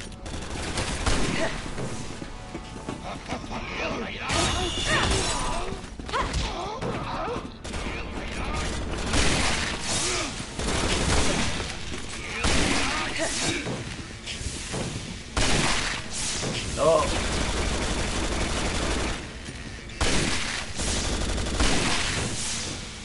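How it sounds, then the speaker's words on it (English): Rapid gunfire from a Resident Evil 6 Ada campaign fight, loud repeated shots in bursts throughout with mechanical clicks and game noise, a sniper rifle among the weapons. "do you ever try that sniper rifle trick I'm doing right now with the shot"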